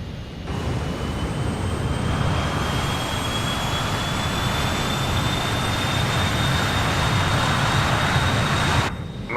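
Jet engines of an RJ Professional regional airliner in Microsoft Flight Simulator 2020, a steady broadband roar with a faint high whine running throughout, loud and continuous, heard alone.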